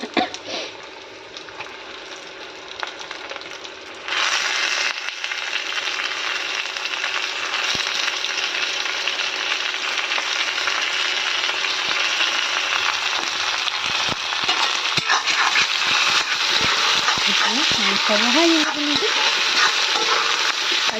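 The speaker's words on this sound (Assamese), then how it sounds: "ফাৰ্ষ্টতে পিঁয়াজখিনি অলপমান ভাজি লৈছোঁ তাৰপিছতে এতিয়া মাংসখিনি দি দিম মই" Onions frying in oil in a pressure cooker for a spiced dry meat dish, a steady close sizzle with occasional knocks and scrapes of a spoon against the cooker.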